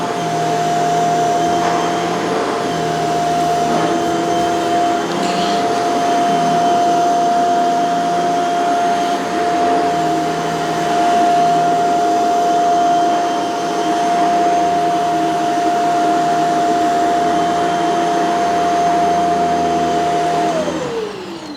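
A Shark CZ351 canister vacuum cleaner runs on a rug with a loud, steady motor whine and airflow roar, its pitch shifting slightly as it makes passes, with no talking.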